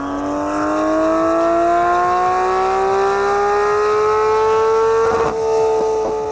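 A tuned Porsche 991 GT3 RS with a Ferrita exhaust roars loudly and steadily as the engine pitch climbs in one long sweep, briefly breaking near the end, heard up close with no voices.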